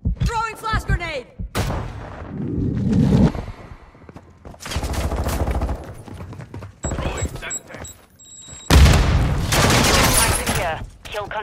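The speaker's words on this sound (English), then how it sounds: "Throwing flash grenade!" A flash grenade and gunfire in Call of Duty Modern Warfare 2: loud, repeated bursts of shots and heavy impacts come in several separate waves, with game voice callouts between them.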